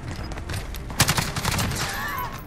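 Rapid automatic fire from an F88C Steyr AUG carbine in Call of Duty Modern Warfare, a dense crackling volley of close shots with a sharper burst in the middle, then spent-casing clinks as the firing trails off.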